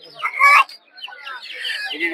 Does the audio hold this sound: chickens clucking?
yes